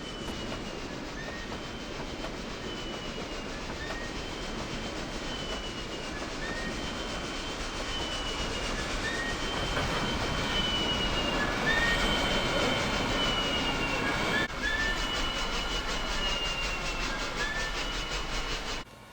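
Two EE diesel locomotives shove a passenger train back into a station platform in Cincinnati, with a continuous rumbling roll of cars, faint wheel squeals and clicking over rail joints, heard from a moderate distance.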